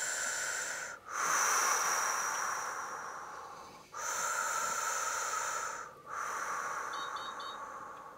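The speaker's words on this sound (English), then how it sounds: "Okay, now we're breathing," Deep exercise breathing during a full-body workout cool-down: three long, slow, airy breaths, each with a soft wheezy hiss, separated by brief pauses, close and fairly quiet.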